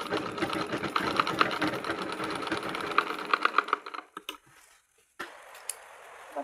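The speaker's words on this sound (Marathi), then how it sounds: "तर मी रबर शिलाई घालून टाकून देतो." A sewing machine runs in a fast, steady buzzing rattle while stitching a cloth cover for a plate, then slows to a few separate clicks and stops, followed by quiet handling noises.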